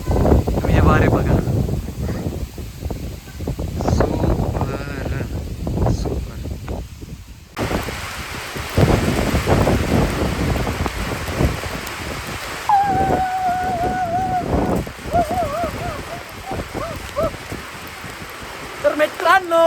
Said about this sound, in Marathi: तर मित्रांनो आता पाऊस जोरामध्ये सुरू झालेला आहे.